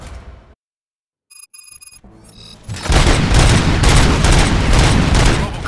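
Rapid gunfire erupts in the RoboCop: Rogue City video game, a dense loud burst of shots following a ringing electronic tone and a brief silence.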